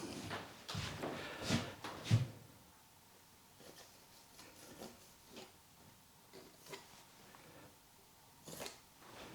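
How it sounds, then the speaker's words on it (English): A wooden floor creaking in short, irregular creaks and groans, clustered and louder at first, then sparser and fainter with long quiet gaps. "It's the floor you can hear creaking, by the way, not me."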